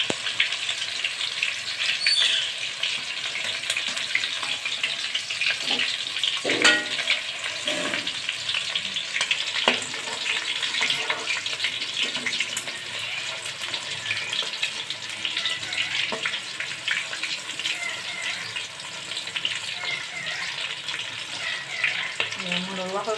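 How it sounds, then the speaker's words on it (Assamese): Chicken pakora frying in oil on a low gas flame, a steady crackling sizzle that runs on evenly throughout with occasional louder pops and a light utensil knock. "এতিয়া মই গেছটো একদম চিমত দি অলপ সময় ভাজি থাকিম"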